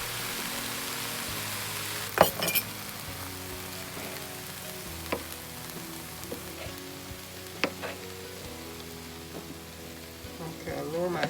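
Garlic sizzling in a hot pan for a quinoa dish, a steady broad frying hiss with a few sharp clicks and scrapes of stirring, at moderate level, with a voice faintly in the background.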